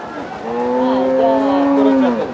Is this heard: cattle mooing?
yes